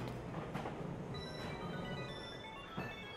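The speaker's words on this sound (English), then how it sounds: "The train to the Isle of Armor has arrived." A train arrives for the Isle of Armor in Pokemon Sword, a quiet rumble of rolling wheels with faint high squeals and a few soft clanks, with no talk over it.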